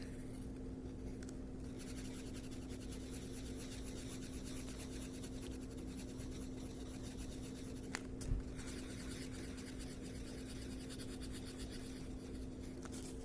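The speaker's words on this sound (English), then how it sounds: "time to use the pencil and give him some little eyes." A pencil scratches and rubs steadily on paper while eyes are drawn onto a small taped figure. The sound is close and faint over a steady low hum, with one brief tap near the end.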